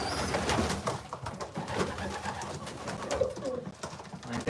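Pigeons in a loft give continuous low cooing with scattered wing and shuffling noises, steady and close throughout with no talking.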